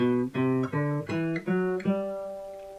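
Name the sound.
acoustic guitar playing a major scale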